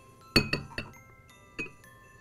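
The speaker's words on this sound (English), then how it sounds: "We're gonna just stir this a little bit before we add our flour." Spoon clinking against a glass bowl while stirring a foamy yeast mixture, four or five light, bright taps spread unevenly over a couple of seconds in a quiet kitchen.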